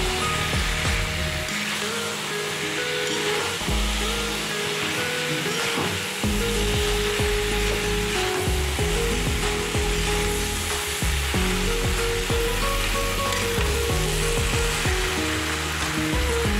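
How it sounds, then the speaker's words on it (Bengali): Cauliflower, potato and soya chunks fry with spices in a pan, giving a steady loud sizzle with repeated scraping and stirring clatter throughout, and no talking. "ফুলকপি আলু সয়াবিন মশলাটা আবার ভালো করে কষিয়ে নেব।"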